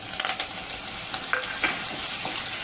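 Chopped coriander stirred and sautéed in hot oil for a Vidarbha-style patvadi rassa bhaji; a soft, steady sizzle with quick scraping stir strokes over a brief moment, no voices.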